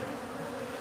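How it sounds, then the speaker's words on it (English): Killer bees swarm around a house soffit in Arizona, making a dense, continuous buzzing hum that is close and steady throughout, with no voices. "Killer bees. They're all killer bees in the state of Arizona."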